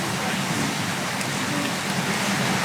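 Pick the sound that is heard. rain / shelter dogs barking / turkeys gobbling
rain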